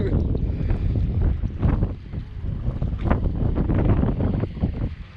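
Wind blows hard across a rocky seaside jetty, making a loud, continuous buffeting roar against the microphone that swells in gusts, with a low wash of water underneath.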